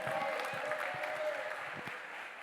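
Congregation at a Sunday church service applauds in a soft, continuous patter of clapping, heard from a distance, with faint voices blended in.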